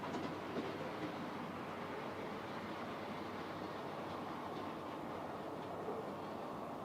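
A model train test-runs on a new layout, giving a steady, continuous rolling rumble with a faint clickety-clack that stays even throughout and has no talk over it.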